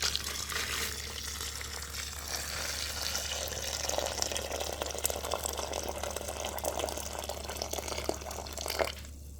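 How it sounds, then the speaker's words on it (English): Very hot boiling water is poured over guinep fruit for Jamaican guinep juice, giving a steady close hissing, splashing wash that runs unbroken for about nine seconds and stops abruptly, with no voices. "I'm gonna go ahead now and I'm gonna add some really hot boiling water"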